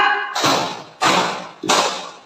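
A group claps in unison during a classroom clapping game among teachers: three sharp, loud clap bursts spaced evenly about half a second apart, each ringing briefly before the next, with no talk.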